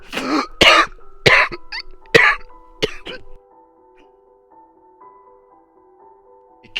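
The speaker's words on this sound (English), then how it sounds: "It cackled maniacally with a cough" A maniacal monster cackle in several loud, sharp bursts, ending in a rough cough, then a faint lingering tonal hum and silence until a last burst at the very end.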